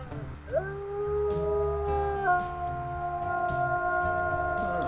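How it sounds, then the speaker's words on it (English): A wolf in WolfQuest: Dragon Pack gives a long, sustained howl that rises and then holds steady, with faint other howls joining, loud and clear with no talk. "We're gonna howl, and that'll probably draw them over to us"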